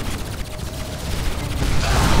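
Video game weapons fire in a dense, continuous burst that swells louder toward the end, with rumbling low booms under a crackling volley.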